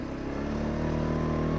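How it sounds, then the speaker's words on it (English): A restored car engine, freshly put back together after a 6000-mile overhaul, runs steadily on a test drive with a smooth, even drone and a low hum that holds constant and close throughout. "the engine is definitely running smoother, much smoother"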